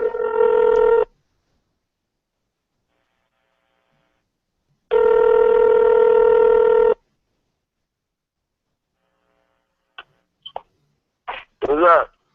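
A telephone rings in two loud electronic trill bursts separated by silence, followed by a few short clicks and brief voice fragments near the end.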